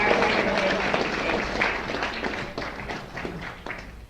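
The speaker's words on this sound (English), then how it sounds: "let's give a big applause to all those groups" An audience at a forum on tax reform and Medicare cuts claps for the sponsoring groups, including a nurses' and health professionals' federation. The clapping is moderately loud and thins toward the end with a few scattered claps.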